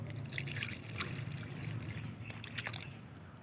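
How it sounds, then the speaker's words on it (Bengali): Water is poured onto the soil of a freshly repotted jasmine plant, giving a quiet, continuous trickle and gentle splashing up close. "গাছটা রিপোর্টিং হয়ে গেলে এখানে আমি জল দিয়ে দিচ্ছি।"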